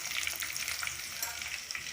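Curry leaves and finely chopped green chillies crackle and sizzle in hot oil in a pan, a dense, steady frying hiss with small pops and no voice.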